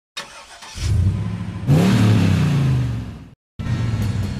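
A monster truck engine in the More Trucks mobile game revs loudly and alone in two long bursts, rising in pitch through the middle, separated by a brief silence before a final rev.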